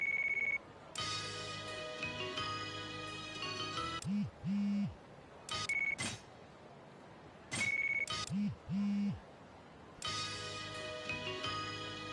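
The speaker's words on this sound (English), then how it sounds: "Change ringtone." A mobile phone in the Yakuza Kiwami 3 video game plays a short electronic ringtone, which then changes to a different repeating melody. The tones switch on and off abruptly between brief silent gaps.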